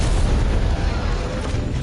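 A grenade explosion in Monster Hunter World, a loud, dense low boom and rumble that fills the whole short stretch, with a continuous roar and a voice faintly under it.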